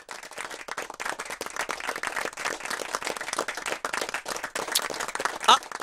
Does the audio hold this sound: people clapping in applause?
yes